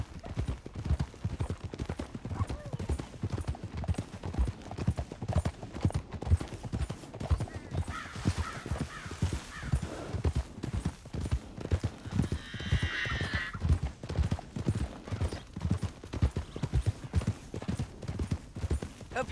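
Steady clip-clop of horse hooves in Red Dead Redemption 2, regular and fairly loud throughout, with a brief whinny and faint rustling layered over the rhythmic trotting; no speech.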